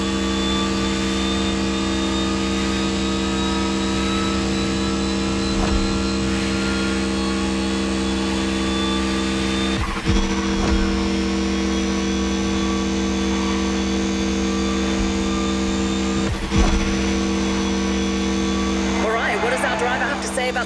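A futuristic supercar, the Silver Arrow, drives in the racing game The Crew Motorfest, its engine holding a loud steady drone throughout with a few brief shifts or bumps and some speech mixed in.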